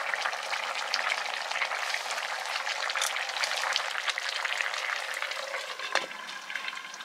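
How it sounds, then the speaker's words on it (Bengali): A pot of fish head curry with mustard greens simmering and bubbling, a dense continuous sizzle and crackle close by with one louder clink near the end, no voices. "ঝোল ফুটছে"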